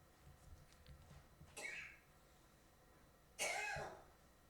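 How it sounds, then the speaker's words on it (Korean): Two short, distinct coughs break a quiet church room, the second louder and closer than the first, separated by a couple of seconds of low background hush. "저도 막 기침을 해가지고"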